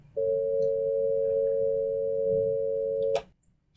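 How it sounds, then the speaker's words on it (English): A telephone dial tone at a higher pitch after dialing 8 sounds as a single steady, clean, close hum for about three seconds, then cuts off with a brief click. "After dialing 8, you'll hear the pitch of the dial tone get much higher."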